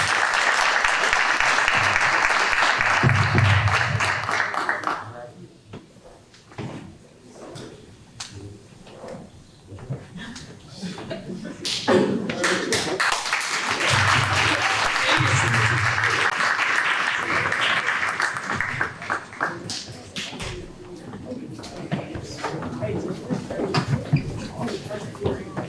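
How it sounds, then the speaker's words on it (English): Audience applause at a county school board meeting, a dense roomful of clapping that runs strongly for about five seconds, thins to scattered claps with murmuring, then swells again into a second full round before tapering. "Let's give another round of applause, please."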